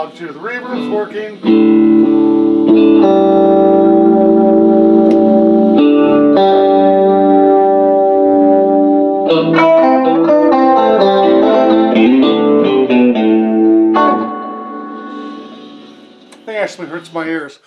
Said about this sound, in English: This came in with non-working chorus. The chorus is working right now.